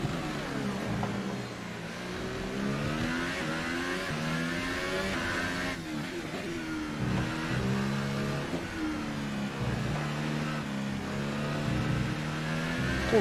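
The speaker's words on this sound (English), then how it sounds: "Now I really hear the engine starting to fall apart." A McLaren Formula 1 car engine in the F1 2018 racing game at the Azerbaijan Grand Prix, wearing out as it runs: a continuous loud whining roar rising and falling through gear changes, with no talking.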